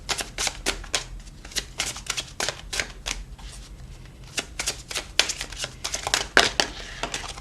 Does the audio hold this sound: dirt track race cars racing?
no